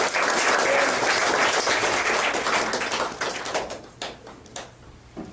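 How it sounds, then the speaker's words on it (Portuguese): A church congregation applauds in a loud, dense burst of clapping that gradually thins out into scattered individual claps at the end. "Vamos aplaudir em nome de Jesus."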